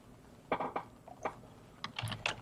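Fingers type on a computer keyboard in a few quick bursts of crisp key clicks, with short pauses between them, close and fairly quiet.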